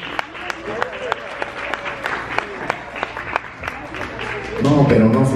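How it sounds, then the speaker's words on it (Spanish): An audience applauds with sparse, crisp claps spread across the room while people talk over it, then the sound swells louder toward the close. "Un aplauso para todos mis compares también,"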